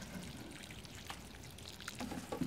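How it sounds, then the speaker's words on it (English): Water pours and trickles over newly transplanted squash plants in a garden, a faint, close splashing and dribbling that thickens toward the end. "I'm just going to water them in really"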